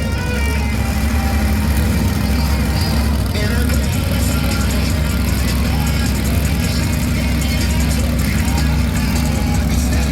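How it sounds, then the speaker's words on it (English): Monster truck engines, King Crunch and Crazy Heifer, rumble at idle as a continuous loud low growl with uneven throbbing, layered with broadband arena noise throughout. "looks like both trucks getting started up"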